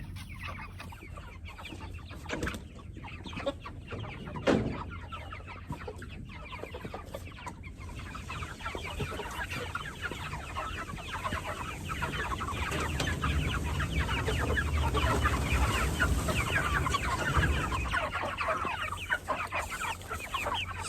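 Chickens in movable chicken tractors cluck and murmur continuously, a dense flock chatter near at hand with scattered louder squawks and a faint crow, no talking.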